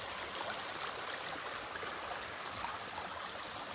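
Agua Caliente Creek runs along a hiking trail, a steady, close broadband rush of flowing water that holds an even level throughout with no voices.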